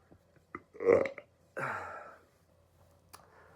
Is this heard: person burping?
yes